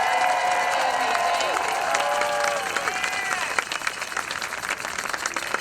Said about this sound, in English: So can we give one more round of applause for all our incredible speakers?